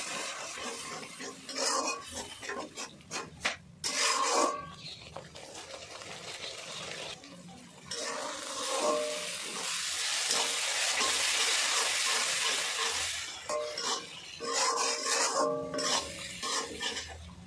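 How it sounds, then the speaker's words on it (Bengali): Spice masala being stirred in a pan for a hilsa fish curry with taro roots, with a little water added so it does not burn. Steady sizzling and frying hiss with scraping stirs, loud and close, with no talk. "সব কিছু এখন ভালো করে মিক্স করে নেব। অল্প জল দিয়ে দেব মশলাটা পুড়ে না যায়।"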